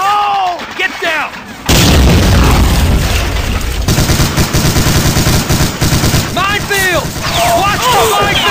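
In a Lego D-Day beach-landing animation, a Bangalore torpedo goes off with a loud, close blast, then rapid gunfire rattles on under shouted voices and scattered whistling effects.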